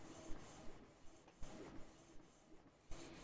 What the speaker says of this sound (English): You see the paper advancing.